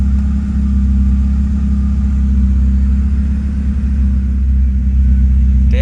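A Honda H22 engine warms up at idle, a steady low rumble with a constant hum that holds evenly throughout, close and loud with no voices.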